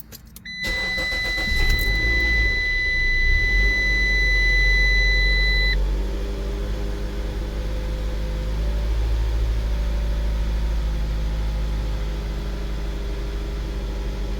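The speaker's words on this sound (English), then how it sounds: "So I'm going to go ahead and crank the vehicle." A 2007-or-later Dodge, just back from a leak detection pump (ESIM) replacement, cranks with a brief starter whir and chime tones, catches, then idles with a loud steady low engine rumble that settles slightly.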